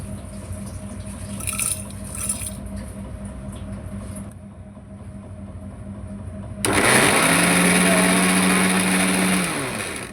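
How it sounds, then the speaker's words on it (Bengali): An electric mixer grinder spins cardamom and cloves into garam masala. After quieter kitchen background it suddenly starts up with a loud, close, continuous roaring whir that fills the rest of the stretch. "এগুলো দিয়ে আমি গরম মশলা বানাবো চারটার মধ্যে মিক্সিতে ঢেলে নিয়ে তারপরে ঘুরিয়ে নেব"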